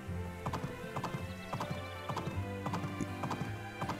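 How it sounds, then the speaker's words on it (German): Rhythmic horse hoofbeats in a video game clip-clop steadily at a quick pace, close and clear, with occasional bright accents over a low musical drone and no talking. "Aber hey, wir reiten mit unserem Pferd."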